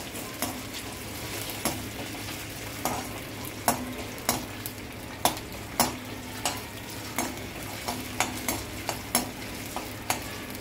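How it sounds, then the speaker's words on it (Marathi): Chopped potato fries in a pan until crisp, a continuous sizzle punctuated by regular sharp spatula knocks and scrapes roughly every second, close and clear with no speech. "1 पोटॅटो घेतला होता, तो आपण असा खरपूस भाजून घ्यायचा आहे"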